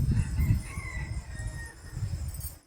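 A rooster crows in the early morning, its drawn-out call standing out faintly over a low rumbling background for a few seconds, with no talking.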